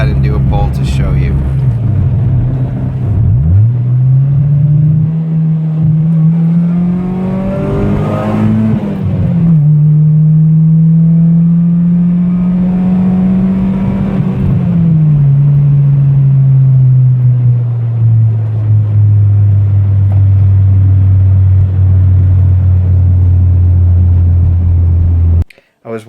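A car engine, free of misfires, pulls hard under acceleration. Its loud drone climbs steadily in pitch, dips briefly, climbs again, then eases into a lower hum before cutting off abruptly.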